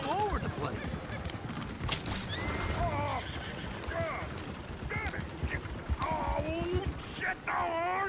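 Several horses neigh and whinny in repeated bursts, close and loud, over clattering hooves and shouting voices, in the video game Red Dead Redemption 2.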